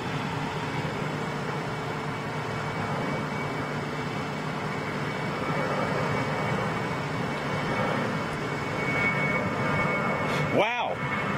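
Airbus A380 airliner at London Heathrow Airport, a steady broad engine roar filling the whole stretch, heard from some distance with voices talking over it.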